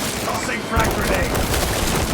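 Dense gunfire and explosive bursts from the Warhammer 40k Space Marine 2 video game, with a frag grenade blast in a constant loud battle din, in-game voices over it.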